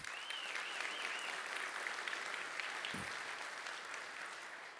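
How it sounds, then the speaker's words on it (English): An audience at a Birmingham AI kickoff event in the Red Mountain Theatre applauds the organisers, a steady, dense wash of clapping from many hands that holds evenly for several seconds at a moderate distance. "Let's give them a round of applause."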